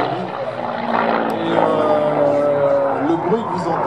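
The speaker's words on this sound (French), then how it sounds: "le bruit que vous entendez lorsque l'avion pique" A twin-boom P-38 fighter plane diving at an air show, its engine drone rising and shifting in pitch with a whining tone, steady and fairly loud, heard under a voice talking.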